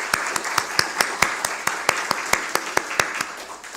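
Congregation at a Korean church worship service clapping in welcome, a steady run of evenly spaced claps at moderate level, fairly close, with no talk over it.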